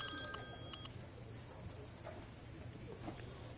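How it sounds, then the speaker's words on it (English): A telephone rings inside the baseball video game MLB The Show 20, with a short burst of bright, repeated ringing at the start that gives way to low background game noise. "What is up with all these phone calls?"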